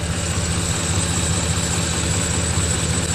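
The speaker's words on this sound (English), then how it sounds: "aside from the Magnaflow exhaust." A 2010 Ford F-150 SuperCrew's 5.4L Triton V8 with a Magnaflow exhaust idles, a steady, deep rumble at close range with a low throaty exhaust note and no noticeable change in pitch.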